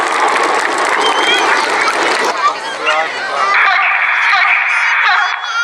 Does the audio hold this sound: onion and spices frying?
no